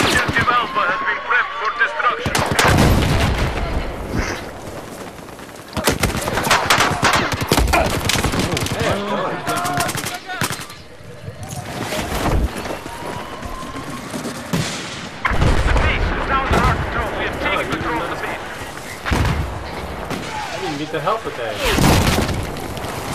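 Rocket explosions and gunfire in Battlefield 4 on the Golmud Railway map, with repeated loud booming blasts and bursts of shots scattered across the stretch, under frequent talk from players.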